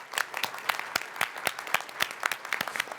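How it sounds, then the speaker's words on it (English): Audience applause at a Science Museum concert: a smallish crowd claps in a steady flurry of sharp, close hand claps, moderately loud and continuous for a few seconds. "Round of applause for them."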